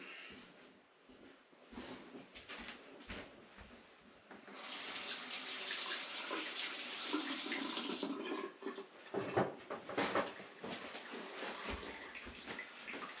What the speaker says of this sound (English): we'll wash our hands here a little bit.